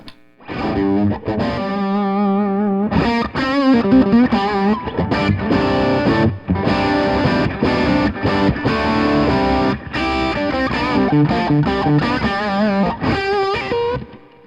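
Les Paul electric guitar through a Kingsley Minstrel tube overdrive pedal at medium gain plays a loud, gritty riff with chugging chords and single notes, nearly continuous with a few brief pauses.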